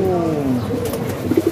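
A pigeon coos close by, a low descending call followed by a couple of short soft coos.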